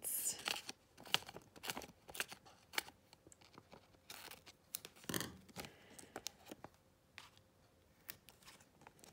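Scissors snip through patterned paper and cardstock pieces for a penguin concertina card, producing quiet, close, irregular crisp cuts and rustles scattered through the clip with no talking.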